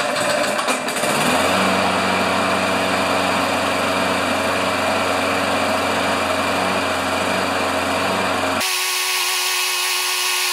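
A Craftsman lawn mower with no blade fitted runs briefly on leftover carburetor gas, a loud, steady, buzzing engine drone for about eight seconds that cuts off sharply.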